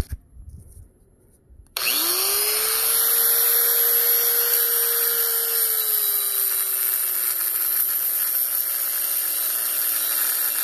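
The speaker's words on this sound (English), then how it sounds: "So that managed to start that angle grinder," Angle grinder with a small blade, powered by solar through a battery-less inverter, starting abruptly after a quiet moment and spinning up to a loud, steady high-pitched whine that holds to the end.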